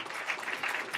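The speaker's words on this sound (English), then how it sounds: "I think we should give them a little round of applause." An audience at an innovation event gives a short round of applause, a dense, even patter of many hands clapping at moderate volume, with faint voices mixed in.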